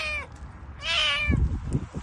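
A dying cat lying outdoors near Arnavutköy, Istanbul, gives two close meows, a short one then a longer strained one, followed by soft rustling and breathing-like noises.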